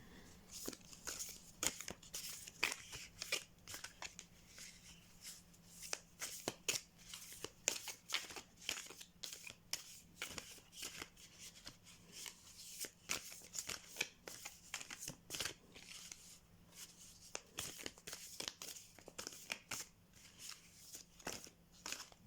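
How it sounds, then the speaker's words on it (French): A tarot deck, the Tarot des Symboles Bibliques, shuffled by hand: continuous soft riffling and papery slaps in rapid, uneven bursts, close and fairly quiet, with no voices. "J'adore battre les cartes."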